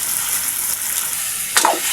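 Spaghetti frying in a pan with paprika, olives and wine, a steady close sizzle throughout that swells briefly near the end as the pasta is stirred in.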